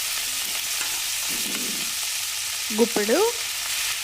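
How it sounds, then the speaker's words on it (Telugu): Cashews and green chilies fry in ghee with a steady hiss and crackle, and a short burst of speech partway through. "జీడిపప్పుతో పాటు పచ్చిమిర్చి వేపుకోవాలి."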